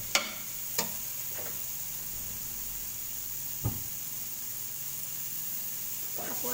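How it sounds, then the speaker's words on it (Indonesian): Vegetables, including wood ear mushrooms, frying in a pan for a rice-vermicelli dish: a steady soft sizzle and hiss with a few spatula knocks against the pan as they are stirred, faint and close. "aku aduk-aduk biar layu."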